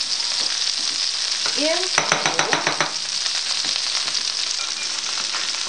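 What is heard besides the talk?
lamb sizzling while frying in a pan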